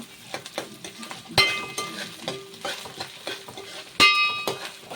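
Ginger paste fries in a pan for a home-style chicken curry, giving a light sizzle under repeated spoon scrapes and two sharp metallic clinks against the pan.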